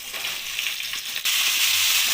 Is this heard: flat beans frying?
yes